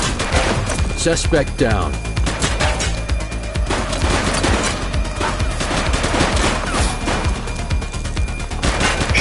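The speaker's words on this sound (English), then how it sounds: "Shots fired!" Police gunfire in The Precinct video game rattles in dense, continuous bursts of loud shots lasting throughout, with a voice briefly speaking over the barrage.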